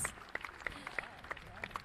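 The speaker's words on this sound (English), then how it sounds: "Round of applause." Scattered clapping at a school valedictory award presentation, a handful of distinct, fairly close claps spaced irregularly over under two seconds, sounding thin rather than like a full crowd.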